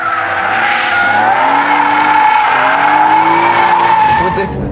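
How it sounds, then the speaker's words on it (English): A BMW M3 with a limited-slip differential power-slides out of a track corner, its tires skidding in a loud, sustained squeal over the engine's steady roar, close by and continuous throughout. "I can turn in, punch the throttle, kick the tail out, and then just power slide it out of the corner"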